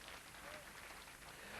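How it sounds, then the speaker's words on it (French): Church congregation applauding during a French-language worship service, steady dense clapping filling the moment with a faint voice underneath. "Applaudissez Jésus, alléluia."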